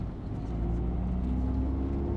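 A Honda CRX with a naturally aspirated 1.6-litre D16A9 engine drives along, heard from inside as a steady engine drone with rising tonal whine and road rumble, no talk.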